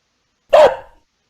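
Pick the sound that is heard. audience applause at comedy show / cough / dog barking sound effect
dog barking sound effect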